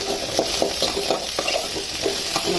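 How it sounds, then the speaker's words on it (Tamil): Shallots, ginger and garlic frying in oil in a pan, a steady close sizzle with soft irregular stirring scrapes and taps throughout. "சின்ன வெங்காயம், இஞ்சி, பூண்டு இது 3ஐயும் எண்ணெயில் போட்டு வறுக்க போகிறோம்"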